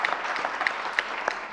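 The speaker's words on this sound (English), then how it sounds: "a very big applause to all the communities representatives that work with us" A brief burst of steady audience clapping at a global launch event, continuous and fairly loud across the short stretch.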